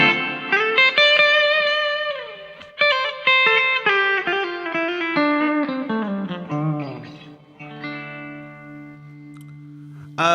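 Electric guitar run through a TC Electronic Hall Of Fame reverb pedal, picked single-note lines descending into sustained chords, each note washed in a long, smooth reverb decay, loud with no talking.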